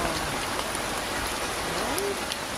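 Steady rain pattering down around someone under an umbrella, a continuous close hiss with scattered individual drops and no speech.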